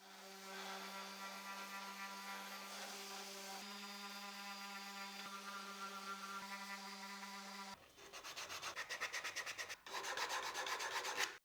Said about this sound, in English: after making the cut, I'll sand it with 120 grit sandpaper